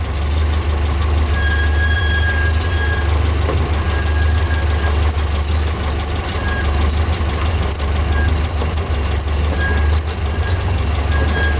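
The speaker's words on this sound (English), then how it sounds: "Empty squeaking brakes." A VW 1800 drives with squeaking brakes, thin high squeals rising in short bursts over a loud, constant low engine rumble and road noise.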